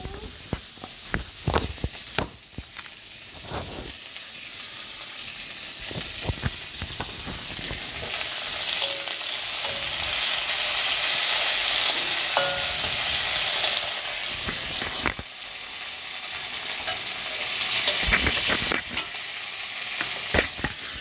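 Tomato and ginger paste sizzles and fries in a hot pan with cumin and onion, a steady crackling hiss broken by stirring clatter and scrapes, close and fairly loud throughout.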